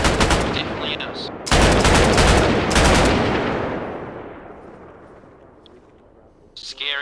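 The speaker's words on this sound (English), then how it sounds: "they're shooting at me at the end of that street near you" Gunfire in the Arma Reforger video game: loud, close bursts of rapid shots in two main clusters, ringing out into a long fading echo, followed by a faint distant crack near the end.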